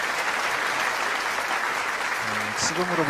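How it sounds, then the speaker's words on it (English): An audience at a large rally in Korea claps in a dense, steady burst of applause, with a brief voice or tone rising near the end. "Let us give another big round of applause to His Excellency Jimmy Morales"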